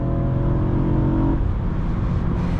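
A 2012 BMW M3 with a 4.0 V8 (420 hp) revs hard toward roughly 8,500 rpm, a loud, steady, close engine roar whose tone rises and then spreads into a broad rushing drone.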